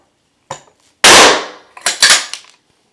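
A powder-actuated nail gun drives a nail into a concrete slab for a shower curb, firing one sharp, loud bang, with a few clacks and rattles of handling before and after.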